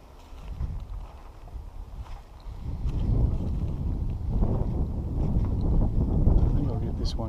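Wind gusts across a riverbank, a steady broad rumble of buffeting against the microphone that swells louder midway and stays strong to the end, with faint outdoor activity underneath.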